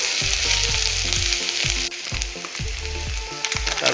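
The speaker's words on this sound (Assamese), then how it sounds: "আদা নহৰু দি দিলোঁ মই।" Ginger and garlic frying in oil for an Assamese mutton curry, a loud steady sizzle close up, with a repeated low scraping thump as the pan is stirred about twice a second.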